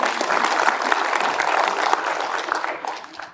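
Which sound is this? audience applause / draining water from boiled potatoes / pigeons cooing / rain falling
audience applause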